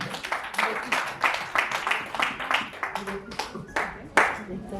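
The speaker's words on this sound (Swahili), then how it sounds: "Pigieni makofi." Clapping from a group at a dinner event breaks out while people talk over it, the claps irregular and sustained.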